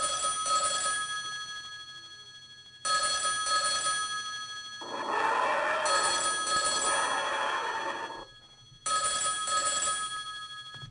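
A telephone ringing sound cue played back through QLab, bursts of steady electronic bell tone repeating across several seconds with short gaps between rings, loud and alone with no voices.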